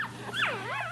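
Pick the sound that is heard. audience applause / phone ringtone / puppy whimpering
puppy whimpering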